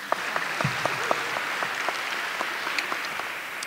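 Audience applause at a university awards ceremony, a steady, dense wash of many hands clapping with no voices, moderately loud and sustained throughout.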